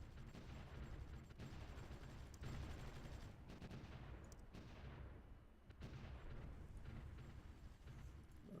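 Artillery fire in the World War I strategy game Supreme Ruler: The Great War, heard as a continuous, faint barrage of overlapping rumbling booms and crackles that swell and fade across the whole stretch.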